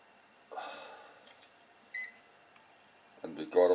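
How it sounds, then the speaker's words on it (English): A single short electronic beep from an old Hubsan toy drone during calibration sounds in a quiet room, followed by a few brief handling noises and a voice. "And we got a beep."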